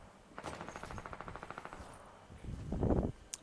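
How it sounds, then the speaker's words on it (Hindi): Gunfire in the video game Fortnite, a rapid run of about a dozen evenly spaced automatic shots, then a heavier blast near the end, moderately distant and fairly quiet. "कोई है फायरिंग हो रही, फायरिंग हो रही है इधर से, फायरिंग फायरिंग।"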